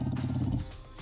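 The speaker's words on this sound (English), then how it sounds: "There's a fucking dog." A dog in the video game 7 Days to Die growls and snarls close by in a short, rough burst, fading out before a brief final snap.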